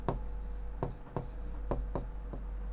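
A pen scratches out a solution table on paper for a linear equation in a maths lesson, a series of short, close strokes over about three seconds, against a steady low hum.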